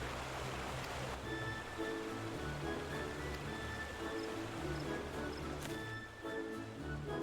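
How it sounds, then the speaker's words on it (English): A babbling river and a spinning water wheel at Water's Edge in Final Fantasy XIV, with a faint steady rush of water and soft repeating tones from game music throughout. "attuning my ears to the sound of the babbling river and spinning water wheel"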